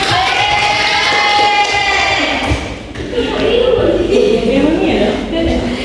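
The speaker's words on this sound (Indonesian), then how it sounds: "Ya, kasih tepuk tangan dulu." Children in a primary-school maths classroom clap and cheer together at their teacher's prompt, a loud, dense burst of shouts and claps with voices calling out through it, dipping briefly midway before swelling again.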